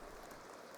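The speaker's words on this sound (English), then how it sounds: "oh, it immediately starts raining." Rain falling in The Sims 2 video game, a soft, steady hiss of drops spread evenly across a short stretch with no voices.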